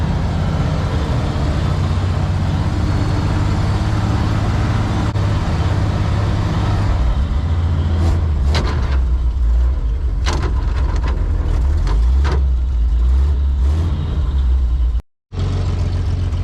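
A 1965 Dodge Power Wagon engine idles steadily with a deep, continuous rumble, close up, with a few faint clicks and knocks over the drone and a brief dropout near the end.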